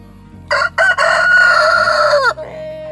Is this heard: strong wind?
no